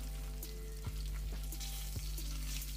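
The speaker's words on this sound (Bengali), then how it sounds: "আমেরিকান মাছটা একটু ভালোভাবে ভেজে নিতে হবে।" American rui fish pieces frying in hot oil, giving a steady close sizzle with a few brief clicks from stirring or turning, and no voices.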